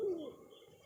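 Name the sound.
pigeons cooing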